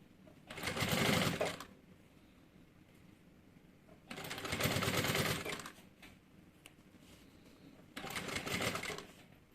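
A sewing machine runs in three separate bursts of rapid, whirring stitching, each about two seconds long, as a seam is sewn along the edge of a changing pad that turns into a bag. The machine is close, with quiet pauses between the runs.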